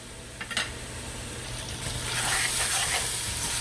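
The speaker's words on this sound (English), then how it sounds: "the vegetables, the onions, the garlic, the carrot, and celery have been cooking for a bit" Onions, garlic, carrot and celery fry in oil in a soup pot, a soft steady sizzle with a few light scrapes early on, growing into a brighter, louder hiss toward the end.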